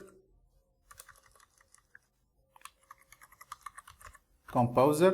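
Typing on a computer keyboard to enter a command at a command prompt: scattered clicky keystrokes in short bursts, fairly close, followed by a brief burst of speech at the end.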